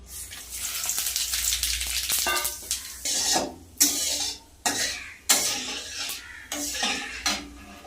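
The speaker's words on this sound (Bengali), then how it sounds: "ডালের সম্বার দেওয়ার জন্য তেল তো রয়েছে কড়াইতে আর এখানে রয়েছে গোটা গরম মশলা দারচিনি এলাচ তেজপাতা আর গোটা জিরে" Whole cinnamon, cardamom, bay leaves and cumin hit hot oil in a kadai for dal tempering, giving loud crackling sizzle bursts with repeated pan scrapes and clinks, close and without talk.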